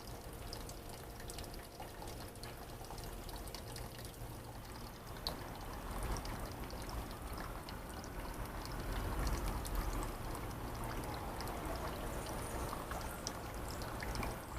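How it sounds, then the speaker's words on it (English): Water poured over houseplants on a shelf during a watering routine, a steady rushing stream that swells slightly partway through and keeps going without pause, close and fairly quiet, with no voices. "I'm just going to do a little watering here."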